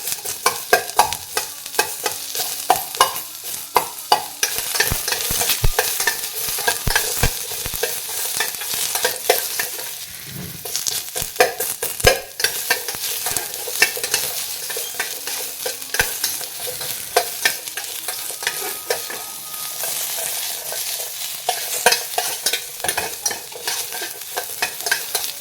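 Sliced onions, separated into loose rings, fry in a pan for a sprouted horse gram sambar, with steady sizzling and frequent scraping stirs of a spoon throughout, heard close and without any voices.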